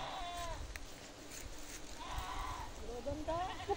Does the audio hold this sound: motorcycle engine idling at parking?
no